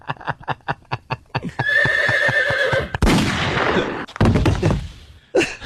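A horse lets out a loud whinny, opening with a rapid run of pulsed nickers that rise into a long sustained neigh, followed by heavy thuds and knocks nearby.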